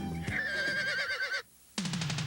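A horse whinnies loudly and close at a Hollywood cowboy trick-riding show, its long wavering neigh broken by a short silence before a second burst.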